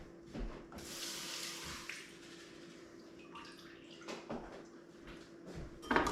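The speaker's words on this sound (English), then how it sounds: "Now I'm just going to rinse these off." Tap water running and rinsing tomato seeds held in a sieve, a steady soft splashing stream that swells for about a second, then lighter trickles and a few clattering handling sounds, close by with no talk.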